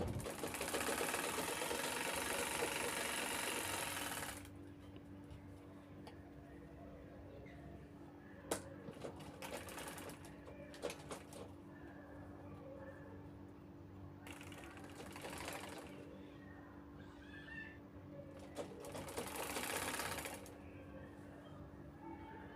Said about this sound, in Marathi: आपल्याला बॅगेला तीनही बाजू शिवून घ्यायच्या आहेत आता साईडनं साईडनं शिलाई घ्यायची आहे